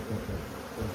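Honeybee colony buzzing during a hive cutout, a steady dense hum of many bees close by with slight swells in loudness, no voices over the one-second stretch.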